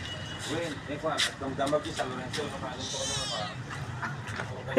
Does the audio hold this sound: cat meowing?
yes